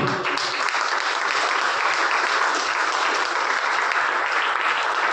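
An audience at a BSNL Meerut Ambedkar Jayanti celebration applauds to welcome a guest performer, a dense, loud, continuous wash of clapping that stays level throughout with no voices on top.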